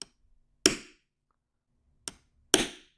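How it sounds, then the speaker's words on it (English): A center punch struck against a brass cartridge case while making dummy rounds, a few sharp isolated metallic taps at close range, two of them louder, with silence between. "give us a good center punch"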